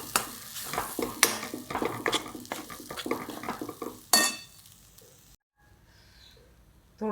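Besan pithla made from soaked chana dal is sautéed in a pan, with busy scraping and clattering of a spoon against the pan over a light sizzle, then quieting almost to silence.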